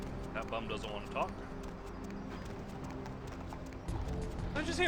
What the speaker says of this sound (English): Did I just hear a fucking horse?